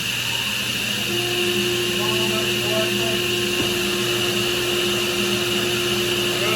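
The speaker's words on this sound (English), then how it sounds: "let's go ahead and turn the saw on first, actually" Grizzly G0605X1 12-inch 5HP table saw spinning up alongside a big dust collector on a T10113 boom, a constant loud machine roar and hum with a steady tone and a brief click midway.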